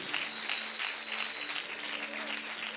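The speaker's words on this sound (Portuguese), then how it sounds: "Dê uma salva de palmas a Jesus" Congregation applauding in a church after a preacher calls for praise, a steady wash of many hands clapping at moderate level, with a faint held tone beneath.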